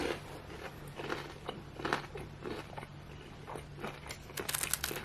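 Close, crisp crunching bites and chewing of panko-breaded fried chicken katsu, with irregular crackly bursts over a faint steady hum.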